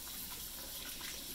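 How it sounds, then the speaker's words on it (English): Cold tap water runs steadily over a cure 2–coated pork loin for lonzino, rinsing off the curing salts in a continuous, close splashing stream with no pauses. "you're gonna run this under cold water, and you're gonna get all the cure off that you possibly can"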